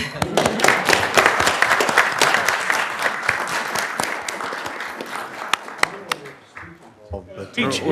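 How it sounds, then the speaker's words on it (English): A room full of people at a city council meeting applauds steadily, the clapping thinning out toward the end as a voice begins to speak. "You should get one more round of applause."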